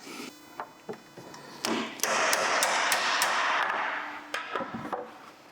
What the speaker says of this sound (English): take a seal driver and knock it back in